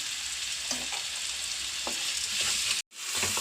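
Onions sizzle steadily in a hot pan for a chicken and potato curry, a close, continuous frying hiss with a few stirring scrapes and a brief break near the end.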